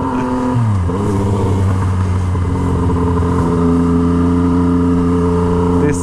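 A Yamaha MT09 motorcycle with a straight-pipe Toce exhaust rumbles loudly up close, a steady deep idle with a quick blip near the start, harsh and overpowering throughout.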